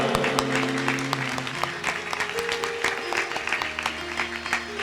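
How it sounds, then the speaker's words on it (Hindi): Loud, sustained applause from a congregation at a Bible convention, steady clapping filling the room for several seconds with a few voices mixed in. "जोरदार तालियां।"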